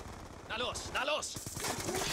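Gunfire in Call of Duty Black Ops 2 crackles in a few short bursts, blending with someone talking excitedly over the action.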